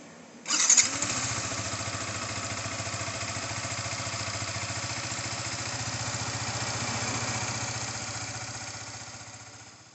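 A Yamaha motorcycle at a dealership fires up with a sharp starter burst, then settles into a steady, close, even idle that carries on alone for several seconds.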